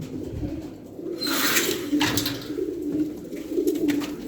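A Van pigeon, a female, coos in a low rolling series close by, with soft flutters and other birds in the background.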